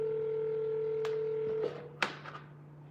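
A telephone dials out for a call to a for-sale-by-owner home listing, a steady dial tone cut off by a few brief keypress tones and clicks, close and clear with no talking.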